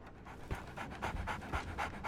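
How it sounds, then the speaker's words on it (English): A dog in the Sherlock Holmes The Awakened video game pants steadily and rhythmically at close range, with quick breaths repeating through the whole moment and no speech over them. "So, Barnes has a dog now"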